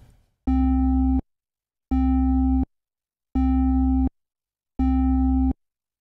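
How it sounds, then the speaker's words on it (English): Plain synth sine-wave oscillator pitched two octaves down for low end, playing four evenly spaced sustained notes with abrupt starts and stops and silence between, clean and steady. "just as a simple sine wave. But we'll set the octave to -2, so it's filling in the low end"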